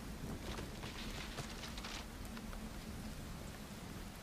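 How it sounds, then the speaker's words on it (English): Steady rain pattering on a surface with a soft, low background rumble, played quietly as an ambience effect during a tabletop role-playing session. "just the static, and the rain, and the thunder"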